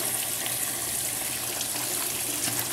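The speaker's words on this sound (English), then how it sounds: "now you're just going to run these potato slices over some warm water" Warm tap water running over thin potato slices to melt leftover ice cubes, a steady, full rushing splash with no pauses and no voices.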